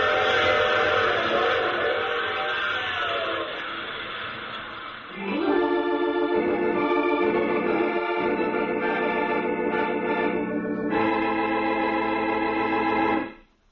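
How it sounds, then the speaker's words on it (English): A steam-era train sound effect from an old radio drama: a sustained loud whistle-like chord rolls on, dips briefly, then resumes with a rhythmic rolling undertone before cutting off abruptly at the end. "I take this same train every week at this same time."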